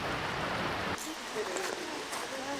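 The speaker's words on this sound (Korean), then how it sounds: "셀야란즈 포스, 높이가 60m에 이르는 폭포입니다" Seljalandsfoss, a 60 m high waterfall in Iceland, roars as a steady broad wash of falling water, loud and continuous, with people talking over it in the second half.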